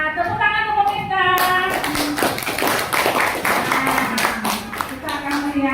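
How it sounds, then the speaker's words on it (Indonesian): An audience claps in applause for Bu Mita at a school or teacher-training session, a burst of many hands that swells after a moment and continues steadily, with voices speaking over it. "Tepuk tangan untuk Bu Mita."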